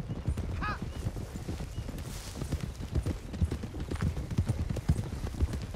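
Horses being ridden in Red Dead Redemption 2: steady, close galloping hoofbeats with a brief neigh near the start and horses snorting, with no talk.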